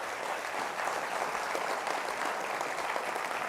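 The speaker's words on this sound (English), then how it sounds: "Give Asia a round of applause, right?" Audience applause from a crowd at a sales and consistency talk, steady dense clapping filling the room for several seconds without letting up.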